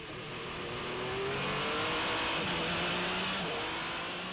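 Porsche endurance race cars in the FIA World Endurance Championship, engines droning and revving as the cars pass, swelling to a peak midway then easing off, moderately loud and without speech.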